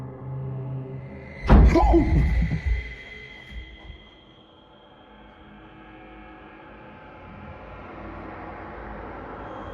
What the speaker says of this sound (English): a loud thud sounds from the next room